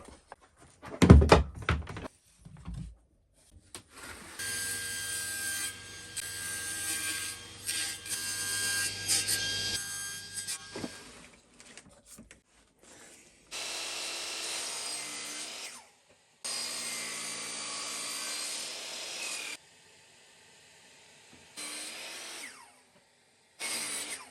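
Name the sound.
cutting pieces for a surface plate frame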